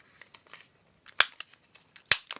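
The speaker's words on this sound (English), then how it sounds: "I'm going to cut this in half. I'm going to cut a piece off here." Scissors cutting paper for a travel junk journal, a couple of sharp close snips among soft paper rustles and light handling noises, no talking.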